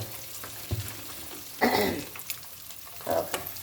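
Egg curry sizzles in a pan while a utensil stirs and scrapes, giving short bursts of louder frying noise over a quieter, steady bubbling.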